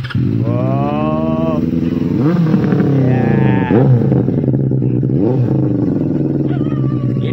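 A Benelli 600i motorcycle engine revs up and down several times, loud and close, each throttle blip rising and falling in pitch.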